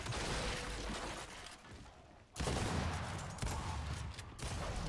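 Sustained Lancer assault rifle fire in the shooter Gears 5, a dense continuous rattle of automatic shots with a brief gap midway before the burst resumes, loud and close with no talking.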